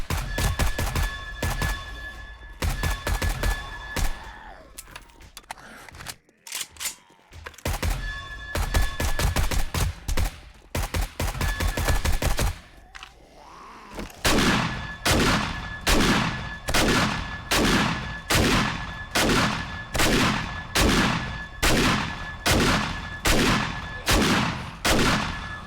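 Rapid bursts of gunfire in 7 Days to Die, first in irregular clusters with brief pauses, then a loud, steady rhythmic series of close shots.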